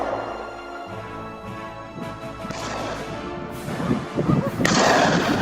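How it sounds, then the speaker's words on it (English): Gunfire from a wild boar hunt on farmland comes as a series of loud bangs and crashing blasts that build in quick succession and echo over a rumbling background. "A rapid succession of gunshots echoed,"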